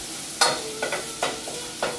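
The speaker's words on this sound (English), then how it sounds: "So get the garlic in there, stir it up, 1 minute." Garlic stirred in a hot pan for a chicken fettuccine Alfredo, giving four distinct scraping stir strokes over a steady low sizzle, close and moderately loud with no talking.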